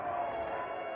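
Spectators at a boxing night in Argenteuil cheer and applaud a hard-fought bout, a dense, continuous roar of crowd noise that stays loud and even throughout.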